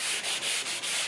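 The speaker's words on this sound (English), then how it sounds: "by sanding it, it gives it a nice smooth finish" Sandpaper rubbing over a chalk-painted wooden headboard, four close, steady back-and-forth strokes with brief pauses between them, a bright hissing scratch with no voices.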